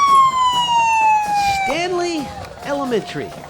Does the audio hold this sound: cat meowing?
no